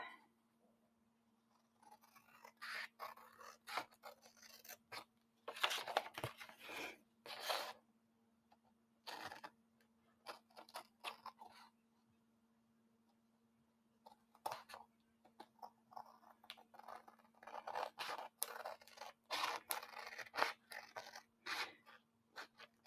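Scissors trimming paper while making a trifold pocket for a journal, sounding as bursts of close, crisp snipping and rustling, with quiet pauses between cuts.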